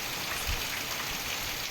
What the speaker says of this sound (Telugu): మా సైడ్ అయితే చాలా అంటే చాలా వర్షం పడుతుంది